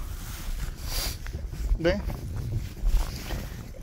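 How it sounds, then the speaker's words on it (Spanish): Strong wind blows hard outdoors after a snowstorm, a steady broadband roar buffeting the microphone throughout, with a brief spoken word and a few louder gusts. "Uf, está soplando el cucuñango fuerte, ¿eh? Está haciendo viento"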